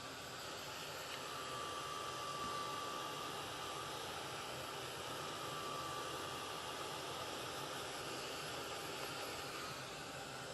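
A heat tool or hair dryer blows over a freshly inked Bible journaling page, drying the ink as a steady, loud, even whoosh of air that runs unbroken and alone.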